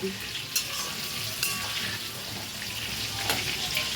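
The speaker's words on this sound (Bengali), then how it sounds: "আলুটা ভাজা হচ্ছে আস্তে আস্তে" Potatoes frying slowly in a pan make a steady, moderate sizzle, broken by a few louder scraping stirs of a spatula against the pan.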